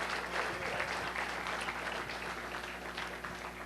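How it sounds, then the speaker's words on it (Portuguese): A church congregation gives a round of applause to the Lord after a sermon, a dense, lively burst of many hands clapping at once that stays strong throughout. "Quem recebeu essa palavra, dá uma salva de palmas ao Senhor"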